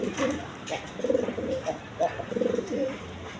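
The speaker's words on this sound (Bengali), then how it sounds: "একদম বিগ সাইজের ইউসেফের লাহোরি কবুতর" Big-sized Lahori pigeons coo in a steady run of soft, rounded calls, several overlapping bursts close by, with faint background noise and a hint of voices.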